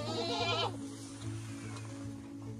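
Several goats bleat on a Konkan village farm, a loud wavering bleat in the first half followed by quieter animal noises and low background hum.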